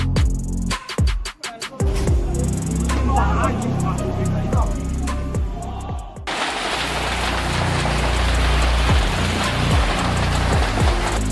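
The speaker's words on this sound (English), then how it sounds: "This hailstorm is really shaking things up, literally." A hailstorm in summer pelting surfaces with dense, roaring clatter, opening with sharp irregular impacts and loud rumbling before settling into a constant heavy hiss of falling ice.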